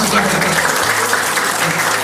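An audience breaks into loud, dense applause that stays at an even level throughout, with a low hum running underneath.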